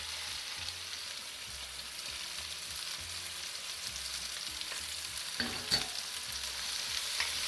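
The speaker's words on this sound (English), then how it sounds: "Now stir the onions and now let the onions fry till it becomes a golden brown." Onions fry in a pan with an even, soft, close sizzle as a spoon stirs them in repeated scraping strokes, with a few sharper knocks near the end and no talking.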